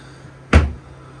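A kitchen cupboard or drawer inside an ice fishing shack shuts once with a single close, dull thump that fades quickly.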